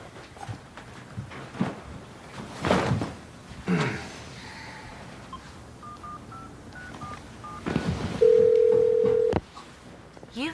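A telephone is dialed indoors: a quick series of keypad tones sounds at moderate volume, ending in one longer tone, with a few handling knocks and bumps around it.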